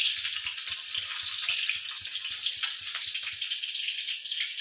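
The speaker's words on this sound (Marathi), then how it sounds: "मिरची तळून घेते" Chillies fried in hot oil in a home kitchen, a steady close sizzle and crackle with fine spitting pops, continuous and loud with no talk.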